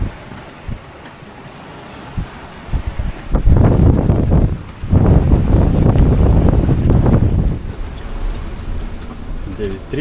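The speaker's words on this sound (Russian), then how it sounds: "И длинные, высокие волны." Big, long ocean swells crash and rush past a sailboat on a solo passage between Rum Cay and Cat Island in the Bahamas, with gusting wind buffeting the microphone in loud, surging bursts.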